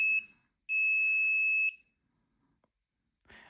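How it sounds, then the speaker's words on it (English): A countdown timer's alert sounds when it reaches zero: a short electronic beep, then a longer steady high-pitched tone of about a second, followed by a faint click and brief rustle. "when it hits the 0, it will go ahead and play a little alert noise too as well"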